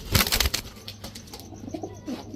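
Pakistani teddy Rampuri highflyer pigeons flap their wings nearby in a quick cluster of fluttering bursts, followed by soft scattered coos and rustles.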